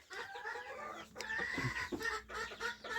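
A hen clucks close by in short, uneven bursts, with a few other soft bird calls, including ducks, mixed in around it.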